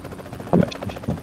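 A brief burst of helicopter rotor and engine noise in PUBG Mobile swells up over a low background, short and fairly loud.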